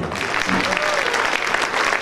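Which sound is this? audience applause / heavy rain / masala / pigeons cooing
audience applause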